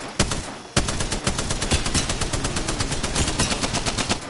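Rapid automatic fire in a video game, a long run of evenly spaced sharp shots after a brief opening burst, loud and steady with no voices.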